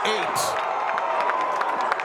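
A large crowd cheering at a Jordan high school football game plays as a sustained wash of distant voices under a play-by-play announcer's commentary.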